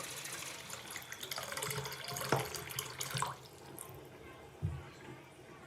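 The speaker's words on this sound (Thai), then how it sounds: "ลูกค้าบอกว่า ระบายช้านะครับ" Water runs and trickles from a bathroom washbasin that drains slowly, a soft continuous flow with a few clanks and knocks, while someone talks over it.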